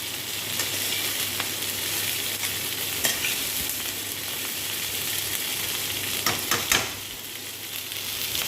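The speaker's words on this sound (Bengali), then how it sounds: "আজকে একটু ভাজা হোক।" Potatoes and onions frying in a pan give a steady, close sizzle, with stirring scrapes and a few louder clinks near the end and no voices.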